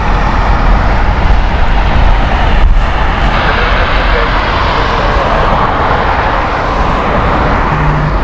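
British Airways passenger jet at Heathrow Airport, a loud, continuous roar of engines close by, filling the whole span as the aircraft passes.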